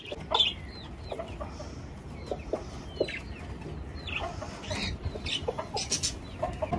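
Several chickens cluck and chatter around the listener, with scattered short calls overlapping against a soft background, fairly close and continuous.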